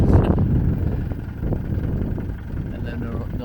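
Low, blustery wind buffeting the microphone throughout on a tarmac road across the Nullarbor, a steady rumbling roar with gusty swells.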